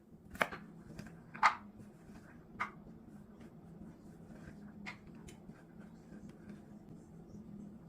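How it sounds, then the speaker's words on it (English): A knife chopping carrots into cubes on a cutting board, a few sharp irregular cuts with pauses between them, close by over a faint background hum. "I'm just slicing my carrots into cubes"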